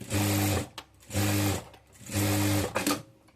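A sewing machine stitches a blouse back neck in three quick bursts, each a rapid mechanical whirring hum separated by short pauses, heard up close without talking.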